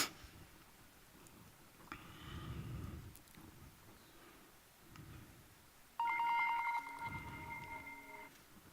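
A cell phone ringing with an incoming call in a conference presentation setting, a bright repeating ring tone entering partway through after quieter room sounds and faint murmur.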